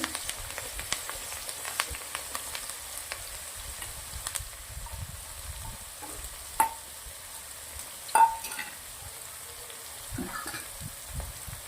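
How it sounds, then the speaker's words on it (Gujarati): Chopped onions fry in ghee with hing and red and green chilies while a spoon stirs and scrapes the pan, giving a steady low sizzle broken by several louder scraping knocks. "ડુંગળીને ઘીના અંદર સરસ મજાની શેકવાની છે"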